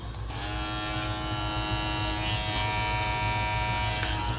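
A GAMMA+ Cyborg electric hair clipper switches on and buzzes steadily up close, a constant humming drone that holds for several seconds.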